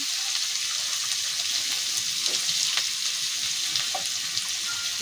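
Chopped onion hits hot white oil in a wok and fries with a dense, steady sizzling hiss that holds evenly throughout, up close and with no voices.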